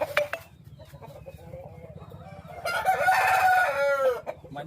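A fighting-breed rooster crows loudly and close by, a long drawn-out call after a few short clucks, over a low steady mechanical hum.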